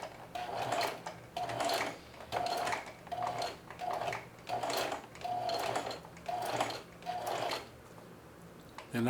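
A sewing machine runs slowly in repeated short bursts with brief pauses, stitching a thick apron strap along its top line, each run close and steady with a soft mechanical whir.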